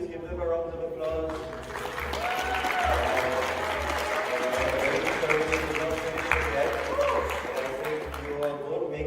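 Wedding guests applaud the newly married couple Amanda and Anish, a sustained patter of clapping over background music and talking voices in the hall.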